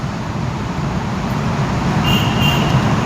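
Traffic roars inside a road tunnel, a dense continuous rumble of passing vehicles echoing off the walls, loud and close throughout.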